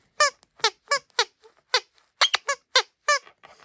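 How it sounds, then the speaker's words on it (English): Squeaky Dragon Quest Smile Slime toy squeezed again and again, about a dozen sharp, high rubbery squeaks in an uneven rhythm, close and clear with no talking. "So we have this slime that squeaks, kind of like a dog toy."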